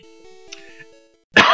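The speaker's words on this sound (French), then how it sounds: "Excusez-moi, je tousse." One short cough sounds near the end, after a stretch of quiet chiptune music from the Pokémon Red game.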